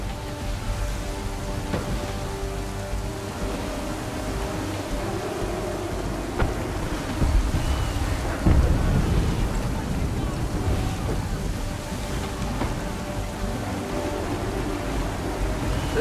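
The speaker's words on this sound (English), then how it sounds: "There's a storm coming, Captain. Feels like a big one." A thunderstorm at sea in Assassin's Creed 3 brings steady wind and rain hiss with water rushing past a ship, plus deep rumbling swells and a heavier thunder-like surge midway, under occasional voices.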